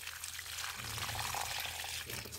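Petunias being watered at the root with fertilizer dissolved in warm water: a steady pour and trickle soaking into damp soil, close and continuous, with no talking.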